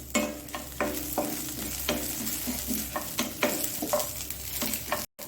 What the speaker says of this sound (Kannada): ಮೆಣಸು, ಬೆಳ್ಳುಳ್ಳಿ ಒಳ್ಳೆ ಫ್ರೈ ಆಗಿದೆ